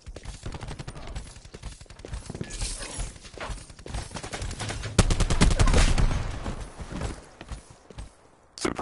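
Suppressing gunfire in a video game, rapid bursts of shots crackling through a busy mix of game effects, swelling to a louder sustained volley midway before fading out.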